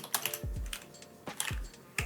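Typing on a computer keyboard during After Effects work, a quick run of close, crisp key clicks and a few heavier keystrokes with an irregular rhythm, no talk.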